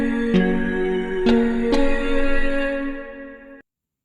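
Layered vocal presets from the SynthMaster 3 Player synth plugin, forming a sustained choir-like chord with a few sharp attacks on new notes, then cutting off abruptly after about three and a half seconds.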